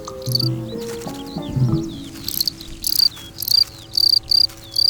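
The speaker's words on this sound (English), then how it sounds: "Male crickets defend their burrows from intruders, rubbing their wing cases together for an extraordinary soundtrack." Male crickets defending their burrows rub their wing cases together, giving sharp, high chirps in rhythmic bursts that grow steadier and louder after a murkier opening.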